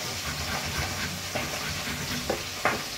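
Fish pieces fry in hot oil with a steady hissing sizzle, broken by a few sharp spattering pops near the end, with no speech.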